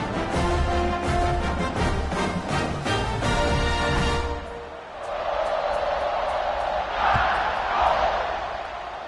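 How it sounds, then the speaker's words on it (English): A big crowd at a Texas vs Alabama college football stadium roars after a score, loud cheering and whooping that swells, dips briefly, then builds again over a steady wash of voices. "this crowd is buzzing after that last score"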